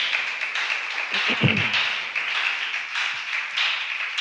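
A church congregation applauds together during a sermon, a steady broad wash of clapping held at moderate loudness for several seconds, with a few faint voices mixed into it.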